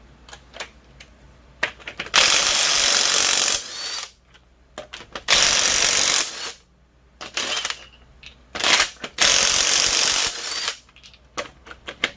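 A ratchet turning a 22.5 millimeter socket on a wheel of a 2007 GMC Yukon XL gives loud sustained whirring bursts, with close metallic clicks and clinks between them.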